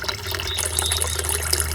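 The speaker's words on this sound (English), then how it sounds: "you can see they're under a constant trickle with the oxygenated bubbles there" Water trickles and bubbles from a pond pump in a clear garden pond, a close, continuous gurgling flow over a low steady hum, with no talk.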